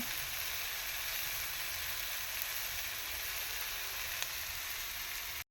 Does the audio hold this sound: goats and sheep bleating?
no